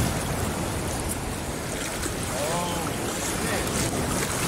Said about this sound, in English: That's with all the big waves.